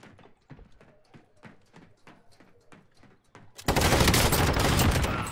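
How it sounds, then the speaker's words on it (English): Gunfire in Call of Duty Warzone, a battle royale game: a rapid run of sharp, clipped shots, then a sudden loud, sustained blast of noisy gunfire and impact roar. "I just bop him with this shotgun"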